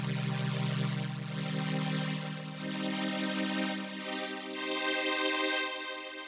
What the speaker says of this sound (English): So this is what the sound sounds like coming out from this old string machine without any effects or anything.